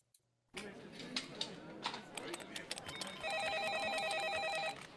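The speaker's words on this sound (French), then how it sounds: "Le téléphone sonne." A telephone rings in a comedy sketch, its warbling electronic tone repeating in the second half over people talking and bustling noise.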